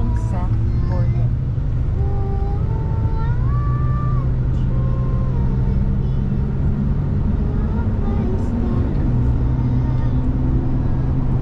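A car drives along Highway 61 toward the Pigeon River border crossing into Minnesota, a steady low road rumble and engine drone inside the cabin, with a voice speaking over it.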